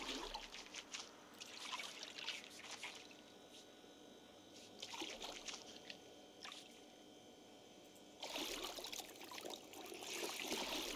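Running water from a tap during washing in Project Zomboid, a soft steady trickle and splash that swells in bursts, fades between them and returns stronger near the end, heard alone without talk.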